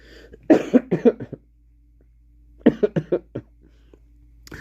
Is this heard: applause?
no